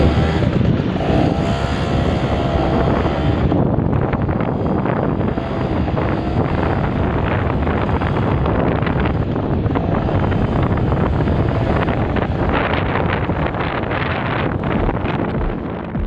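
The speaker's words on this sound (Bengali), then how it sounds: "সবাই একসাথে আমরা মোটরসাইকেল স্টার্ট দিব তারপর রওনা দিব" Motorcycles ride together on a group tour in West Bangka, Indonesia, their engine drone buried under loud, constant wind buffeting on the microphone throughout, with no talking.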